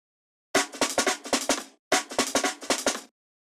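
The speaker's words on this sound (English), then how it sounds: "a chopped up breakbeat, which I just... Which comes in the second half" A punchy, chopped breakbeat drum loop from a drum and bass track plays in two short bursts of rapid kicks and snares, with a brief gap between them.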